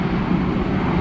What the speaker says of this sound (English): That's a Delta 757.